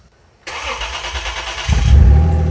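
A truck engine fires up after a fuel leak repair and a fuel pump rewiring: a cranking starter whirs briefly, then the engine catches into a loud, close, rumbling idle.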